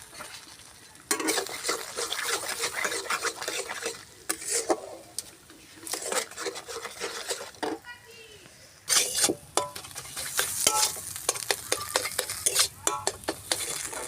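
An egg frying in oil in a pan, with bursts of sizzling and busy scraping and stirring of a utensil against the pan, broken by short pauses. Voices are faintly audible.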